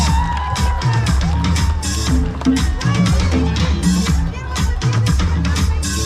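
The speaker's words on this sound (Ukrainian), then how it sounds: "Аплодисменты," Festival audience at a youth anime and cosplay fest in Yakutsk cheers and applauds contest winners, a loud sustained crowd roar with music playing underneath.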